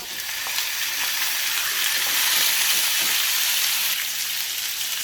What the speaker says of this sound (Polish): czekamy aż puści trochę tłuszczu, żeby można było smażyć resztę mięsa